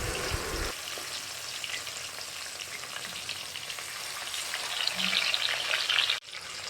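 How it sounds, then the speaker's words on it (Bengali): Bhetki fish pieces fry in mustard oil in a kadai, giving a dense, steady, close sizzle with occasional stirring clinks. "কড়াইতে সর্ষের তেলও দিয়ে দিয়েছি এবার এক এক করে সমস্ত মাছগুলো ভেজে নেব লাল লাল করে"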